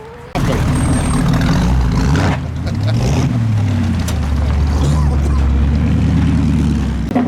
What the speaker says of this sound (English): So all the cars are leaving now and revving their nuts off.